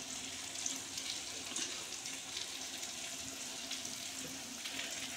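A pot of small-fish curry bubbles steadily at a boil, a soft continuous simmer and sizzle heard close and alone, with no talk.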